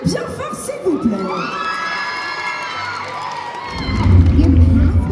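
Crowd at a cosplay contest in Paris cheers a Genshin Impact Lumine cosplayer on stage. Tonal stage audio plays first, then a loud burst of shouting, whooping and clapping rises near the end.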